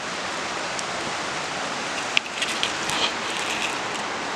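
A river flowing beside a forest campsite in Gifford Pinchot in April, with slushy snow about, makes a steady broad rushing hiss, with a few faint clicks and taps over it.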